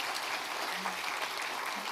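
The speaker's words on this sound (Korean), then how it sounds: "시온을 위해서도 한번 격려의 박수 해주시면 좋겠습니다" A church congregation at a Sunday morning service claps for the Zion choir, a dense, sustained wash of applause that holds steady throughout with no clear speech on top.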